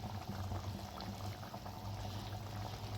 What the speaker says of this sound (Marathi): त्या मोठ्या आचेवरच 1 मिनिट फक्त उकळी घेणार आहे